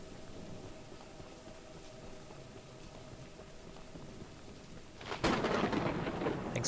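A video game thunderstorm rumbles with steady rain hiss, then a loud thunder crack breaks near the end.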